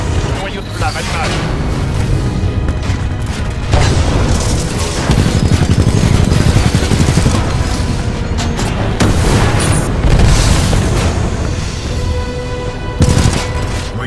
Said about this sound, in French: Noyau de flamme, allumage.